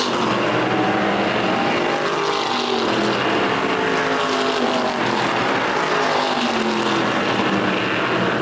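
Race cars speeding down a straightaway, their engines a loud, sustained roar with rising and falling passes close by, and no voices.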